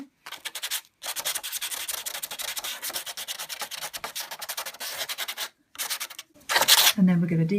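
Sanding by hand roughs up the surface of a Suzuki SV650 motorcycle fairing, giving rapid back-and-forth scratchy strokes in several bursts separated by short pauses.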